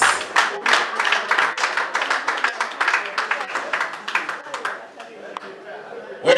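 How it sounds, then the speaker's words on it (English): An indoor audience applauds with dense, steady clapping for several seconds that gradually thins out toward the end, with a faint murmur underneath. "A round of applause for them, please."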